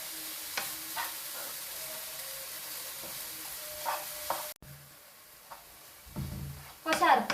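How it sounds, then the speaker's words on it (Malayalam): Coconut and jaggery filling for wheat-flour ela ada being stirred in a pan, giving a low sizzle with intermittent scrapes and a few louder clatters near the end, with a voice briefly heard. "നന്നായി ഇളക്കി കൊടുക്കുക. തേങ്ങ ശർക്കര ഒരുപോലെ മിക്സ് ആകാൻ വേണ്ടിയിട്ട്."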